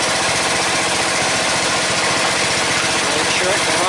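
A Briggs & Stratton 14.5 engine on a small red tractor runs steadily with its air breather fitted, a loud, close, rough idle with a fast, even pulsing chug throughout.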